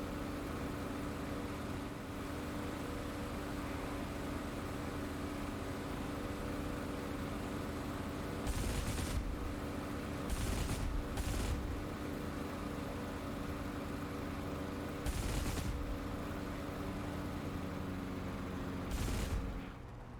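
Aircraft cannon fire in the DCS flight simulator: several short, harsh bursts over a steady engine drone, spaced irregularly across the clip.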